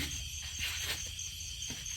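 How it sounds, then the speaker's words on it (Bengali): Crickets chirp through a quiet rural night, a steady high insect drone with soft pulsing bursts, continuous and moderately faint with no talk. "রাত্রিবেলা ঝিঝি ডাকছে।"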